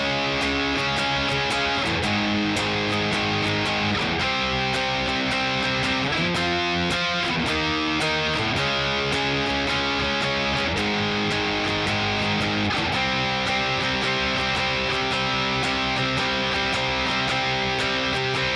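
Electric guitar playing the rhythm part for the solo section of a song, a quick down-down-down-up-down strumming pattern with distortion, steady and dense, played alone with regular percussive strokes throughout.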